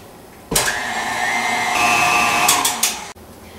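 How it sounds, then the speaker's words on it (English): An electric hand mixer whirs up abruptly and runs loud and steady through French toast cupcake batter, shifting pitch partway through, with a few clunks against the bowl before cutting off. "I'm going to give it one more go with the mixer."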